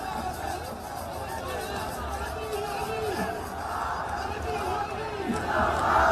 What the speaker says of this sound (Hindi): कार्यकर्ताओं में उत्साह, कार्यकर्ताओं की भीड़ आप ये देख पा रहे हैं इस वक्त